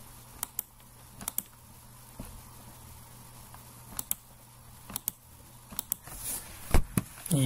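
AutoCAD commands are typed on a computer keyboard as sparse, crisp key clicks, some in quick pairs, spread over a quiet room background with no talking.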